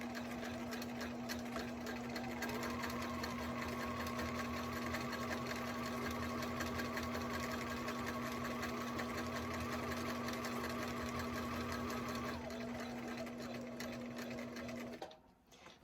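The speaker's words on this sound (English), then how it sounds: "I'm going to sew down to that first edge, and then I'm going to stop and I'm going to pivot." A sewing machine stitches steadily along the edge of a T-shirt pillow, a loud continuous motor hum and rapid needle clatter running for about fifteen seconds before stopping abruptly.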